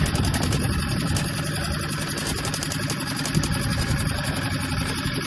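A dinghy's outboard engine idles continuously at close range, a steady mid-pitched rumble with constant vibration and no break.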